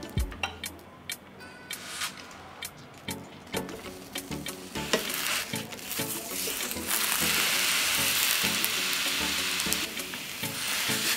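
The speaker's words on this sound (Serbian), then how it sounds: "Nakon 2 minuta kupus okrećem na drugu stranu i nastavljam da ga pržim još 2 minuta" Shredded cabbage frying in a pan, a steady sizzle that grows louder and denser, broken by repeated scraping and stirring knocks from turning it over.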